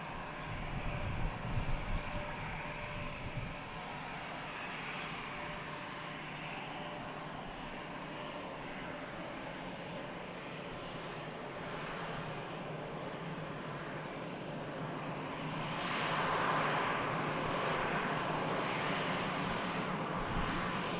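An Air Transat jet departs Manchester Airport for Toronto, its engines giving a steady, distant roar that swells slightly toward the end.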